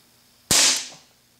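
A single sharp, loud pop from a Gamo PT-85 blowback pellet pistol being fired at a target, heard alone against a quiet background with a short decaying tail.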